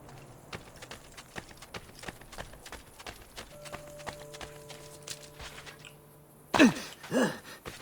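Horse hooves clip-clop steadily at a walk in Assassin's Creed Brotherhood, regular close taps across the scene, joined near the end by louder, rougher bursts of game sound.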